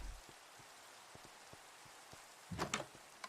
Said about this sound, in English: Yeah, this is the rain again.